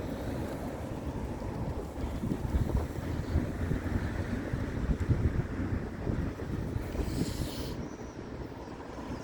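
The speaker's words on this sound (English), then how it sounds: "Oh, I hate wind. I hate it." Strong wind blows steadily across the microphone outdoors on a street, a loud continuous rumbling buffet with gusts swelling and easing throughout, with no voices.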